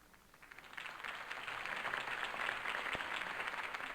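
Crowd applause for Harvey Dent's campaign speech in the video game Batman: The Telltale Series, a broad steady wash of clapping that swells after the first second and holds at moderate loudness.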